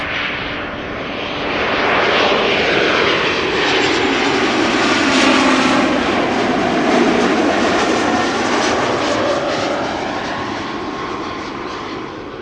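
A Qatar Airways Airbus A350-1000 on approach to land on runway 06 at Amsterdam Schiphol swells from a rising rush into a loud, sustained jet roar with sweeping engine tones, then slowly fades.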